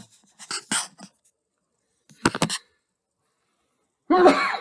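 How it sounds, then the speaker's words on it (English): A few short, sharp bursts with quiet gaps between them, the last one loudest and closest, like a sneeze. "Excuse my sneezing."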